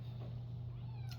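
A cat meows once outside a window, a short cry heard at a distance over a steady low hum.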